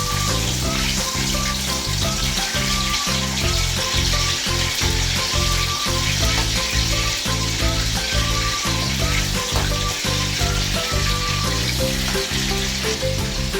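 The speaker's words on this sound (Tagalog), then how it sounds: "Prito natin yung patatas." Potatoes fry in a pan with a steady, loud sizzle throughout. Scraping and stirring clatter from cooking utensils sounds over the sizzle, and no one speaks.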